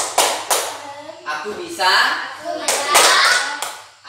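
Children in a classroom clap the rhythmic 'tepuk baby' clap, with several sharp bursts of hand claps set between young voices chanting and speaking.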